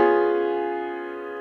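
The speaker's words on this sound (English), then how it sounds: "there's another chord that has these notes in it as a tritone that is also a dominant 7th" A piano sounds a single sustained dominant seventh chord used as a tritone substitution, struck once and left to ring and slowly fade, close and clear with no voices.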